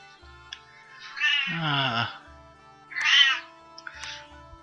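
A pet cat meows loudly several times at close range, with drawn-out, wavering cries separated by short quiet gaps.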